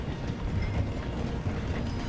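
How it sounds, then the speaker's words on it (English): A train in Red Dead Redemption 2 slowing down as it passes through a station, giving a dense, steady rumble with rattling clickety-clack from the wheels, heard close and continuous with no talk. "The train is slowing down to go through the station."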